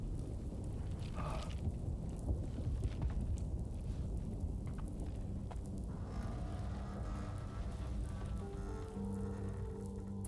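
Rain and thunder heard indoors in Death Stranding 2: a steady wash of rain noise with deep rolling rumbles, continuous and fairly loud throughout, with no speech.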